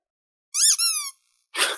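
A squeaky rubber pig toy squeezed twice in quick succession, giving wavering high-pitched squeals, then a short burst of rustling noise, close and loud with no talking.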